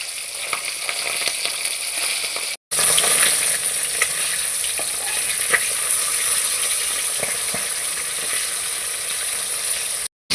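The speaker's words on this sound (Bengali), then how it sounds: "এবার আমি উল্টে অপর পিঠটাও ভেজে নিচ্ছি।" Pabda fish sizzle in hot oil in a pan, a steady crackling fry that continues with only a brief break, with no one talking.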